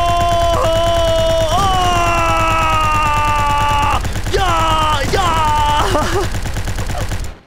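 A machine gun fires in a football-themed video game, with dense, continuous rapid shots under tonal game effects and sliding sounds, staying loud throughout before cutting off at the end.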